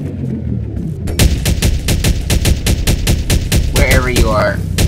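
Rapid machine gun fire in Garry's Mod during a cops-and-robbers round: a long, loud, evenly spaced burst of sharp shots beginning after a second of quieter sound, with a voice briefly over the end.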